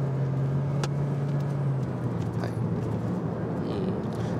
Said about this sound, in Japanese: ここではCVT をマニュアルモードにしてパドルでシフトをしながら走ってみます。